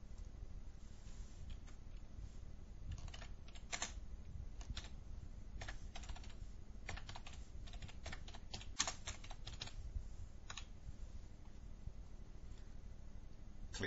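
Steady clicking of a computer keyboard as someone types into phone-system settings, fast uneven keystrokes close by over a faint background hiss, with no voices.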